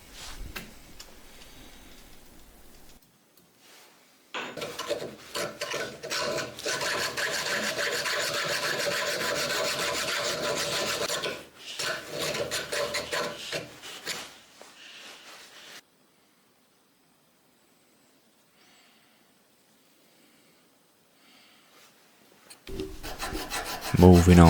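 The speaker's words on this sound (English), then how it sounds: "Now I have everything drilled and I can move on to file work." Hand filing on a bowie knife blank: a long run of rhythmic rasping strokes, fairly close and steady, broken by short pauses and a quiet stretch, with a louder clatter at the very end.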